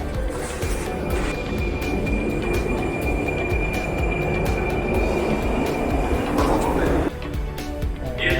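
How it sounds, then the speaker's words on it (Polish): A tram rolls through Prague with a steady, loud rumble of wheels on rails and a continuous high whine, the noise filling the whole ride and easing slightly near the end. "Jak widać, jadę tramwajem w Pradze"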